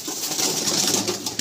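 Red pigeons in a loft coo in a dense, continuous chorus of soft, throaty calls, close and fairly loud with no voices.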